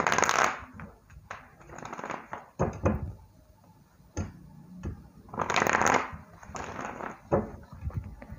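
Tarot cards are shuffled by hand at close range in repeated riffling bursts, a crisp flutter of card edges broken by short pauses and small taps as the deck is squared.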